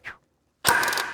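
A Milwaukee staple gun fires once: a short soft click first, then after a brief silence a loud sharp mechanical snap with a ringing metallic tail.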